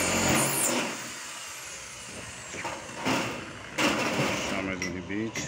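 A power drill bores a hole with a 50 cm bit, heard as intermittent whirring bursts against a background of workshop noise and rising and falling mechanical whine.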